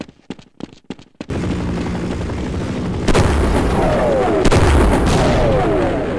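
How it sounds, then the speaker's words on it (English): Anti-aircraft flak cannon in the Half-Life game fires heavy booming shots, each one followed by a rumbling roar. A few sharp cracks come first, then a sustained loud barrage with strong bursts landing at around three and four and a half seconds. "Is that an AA flat cannon shooting at me?"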